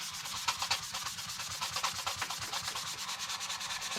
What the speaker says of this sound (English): The metal's so soft it clogs up the sandpaper pretty quick.